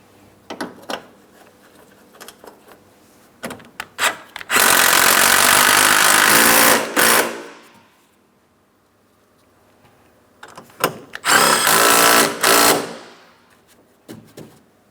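A power tool drives in the bumper cover mounting bolts on a 2008-2016 Chrysler Town & Country, giving two loud, sustained whirring bursts of a few seconds each. Quieter clicks and handling noises fall between them, close and without talk.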